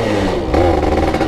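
A Yamaha Fiz R motorcycle engine revs loudly on a test ride, a close rough rumbling drone that rises slightly in pitch partway through, with no talking over it.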